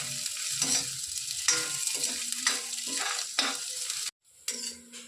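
Green chili, ginger and garlic fry in a pan with a steady close sizzle, broken by repeated stirring scrapes and a short pause near the end.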